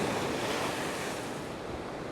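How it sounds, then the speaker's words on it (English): Waves wash onto the shore of the seafront at Paphos in a steady roar while wind buffets the microphone, loud and close with no voices. "the wind is picking the surf up a bit"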